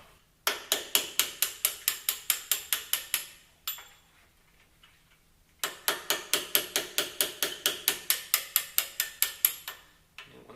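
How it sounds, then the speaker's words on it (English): Rear brake pad retaining pins being punched out of the caliper on a Mercedes SLK55 AMG, heard as two loud runs of rapid, evenly spaced metallic hammer taps with a short pause between them, close by and with no talking. "All we do have to punch the pins out."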